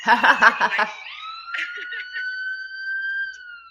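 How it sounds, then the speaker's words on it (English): A brief burst of laughter, then a police siren wails steadily in the distance for several seconds, rising and holding a long tone. "Sorry, sirens."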